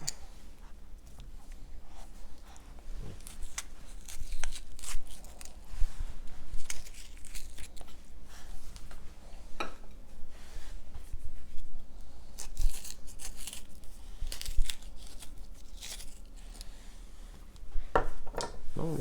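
A paring knife cuts the stems out of roasted tomatoes: a long run of close, irregular taps, clicks and scrapes of the blade against a cutting surface, with a faint background hiss and no talking.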